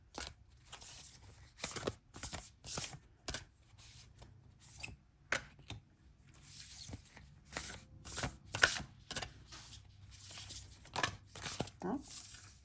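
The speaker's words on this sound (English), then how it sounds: "we are going to be choosing one of these three cards that I pull out from this oracle" Oracle cards pulled from a deck for a pick-a-card tarot reading, with repeated close, soft papery rustles and slaps in irregular bursts, a voice speaking over some of it.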